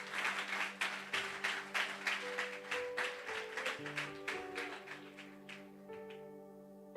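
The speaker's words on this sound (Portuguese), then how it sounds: "Aplauda Jesus." A church congregation claps together in a burst of applause over sustained music, the clapping strongest early and fading toward the end while tones linger.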